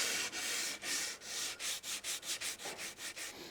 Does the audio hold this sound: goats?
no